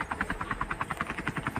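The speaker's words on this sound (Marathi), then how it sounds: "इथे हेलिकॉप्टर कोणतरी घेऊन जात आहे इथून." Helicopter in the mobile battle game Scarfall 2.0, a steady rapid rotor chop thudding throughout at moderate level, with no voices over it.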